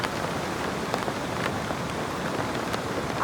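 Heavy rain falls steadily during a camping trip with a tent set up, a dense, even patter with occasional sharper drop taps, moderately quiet and continuous.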